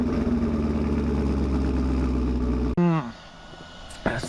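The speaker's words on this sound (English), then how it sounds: "it's the Traxxas Sledge, and today we're gonna be taking it for a run" A Traxxas Sledge RC car runs with a loud, steady, buzzing motor whine for under three seconds, then cuts off abruptly, leaving a few short chirping squeaks and a faint rattle.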